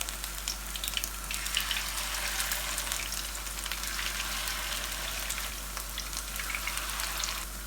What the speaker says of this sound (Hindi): जब ऑयल गर्म हो जाए तो फिर हमने 1 बाय 1 ऑयल के अंदर इनको डालते जाना है।